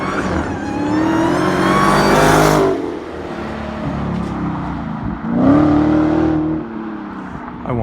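A car revs hard and accelerates on a road with about a 35 mph limit, driven recklessly; two loud rising engine surges, the second after a brief dip, pass close by.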